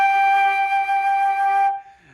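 Flute sounding a single sustained high G, the note on top of the staff, held steady and clear for under two seconds before cutting off, close and solo with no talking.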